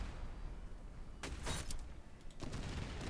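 Massed gunfire in the Master of Command strategy game as British forces attack an artillery battalion: two dense crackling volleys, the first loud and sharp, the second rougher, over a low rumbling battle background.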